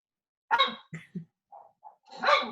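A dog barks sharply a few times at close range, with short gaps and softer whimpering yelps in between, the barks standing alone against a quiet room.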